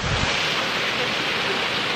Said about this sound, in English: Take a beautiful look at this waterfall behind me.